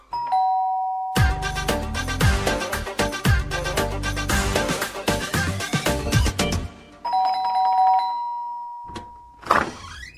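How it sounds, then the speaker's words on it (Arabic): A doorbell chimes at the start and again near the end, with a loud, rhythmic stretch of thumping sound in between and a brief noise at the close. "خلي عندك دم واضربي الجرس"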